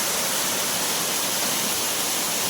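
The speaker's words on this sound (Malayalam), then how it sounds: "ഇതാണ് രണ്ടാമത്തെ വെള്ളച്ചാട്ടം" A waterfall pours in a steady, dense roar of rushing water that stays loud and even throughout, with no voices over it.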